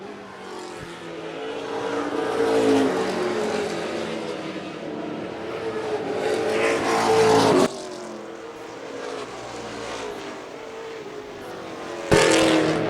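Pro Stock race cars roar around an oval track under the lights, several engines blending into a loud continuous drone with rising and falling pitch as the cars pass, sharp cutoffs near the end.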